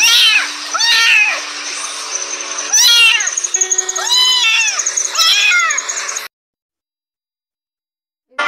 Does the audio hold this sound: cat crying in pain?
yes